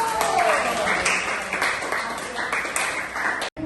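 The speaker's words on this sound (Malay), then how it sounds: "Beri tepukan untuk saya tu" Applause breaks out in a classroom after an integer-board maths demonstration, a brisk run of clapping alongside some voices that cuts off abruptly just before the end.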